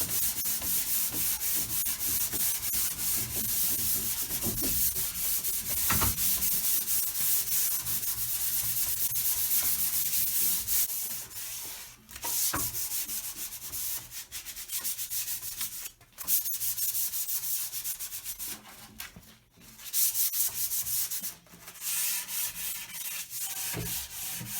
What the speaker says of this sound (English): the next step will be to scuff sand the entire piece. Okay, we're going to go over it with 320 grit.